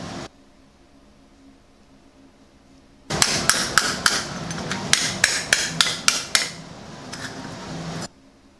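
A metal disc being hammered flat for a hot rod part, a steady series of sharp ringing blows, about a dozen close loud strikes in uneven rhythm over a background hiss.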